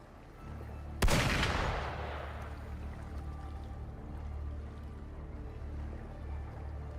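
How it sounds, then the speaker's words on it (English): A single sharp video game gunshot in Wuthering Waves cracks out loud, then a long rumbling decay and low ambient drone with no other shots. "Gunfire!"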